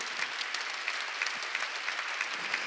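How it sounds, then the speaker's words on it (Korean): Congregation applauding at a New Year's Eve church service, a steady wash of many hands clapping at moderate distance, fairly even with small bursts, no voices over it. "박수 치라고."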